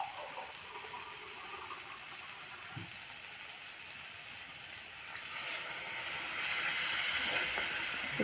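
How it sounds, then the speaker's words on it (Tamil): Water is poured into a pan of moringa drumsticks being cooked for thokku, a soft, steady splashing stream that grows louder and fuller toward the end. "தேவையான அளவு தண்ணி ஊற்றி"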